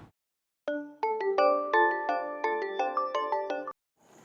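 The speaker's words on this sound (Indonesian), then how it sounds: "Telepon Kevin nih." A phone ringtone plays while a call goes out: a bright chiming melody of about a dozen quick notes lasting around three seconds, heard alone in near silence.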